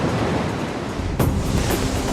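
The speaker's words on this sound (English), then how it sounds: "Wind creates waves, even on Earth, whenever gusts of air push and pull at the water's surface." Wind-driven ocean waves surging in a steady, broad roar, with a stronger swell or gust rising briefly partway through, no voices present.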